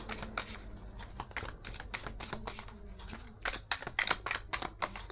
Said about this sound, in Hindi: चलिए मैं थोड़ी शफल करती हूँ